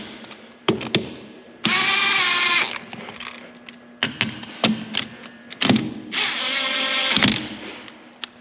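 An impact wrench spins bolts down in a cross pattern while installing a TorqMasters locker on a 2021+ Mule Pro, without hammering. Two sustained whirring runs of about a second each stand out between scattered clanks and taps from the work.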